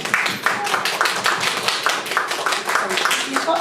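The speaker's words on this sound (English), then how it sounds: "Give yourselves a round of applause." A panel discussion audience applauds, dense steady clapping from many hands close and loud throughout, with a voice faintly under it.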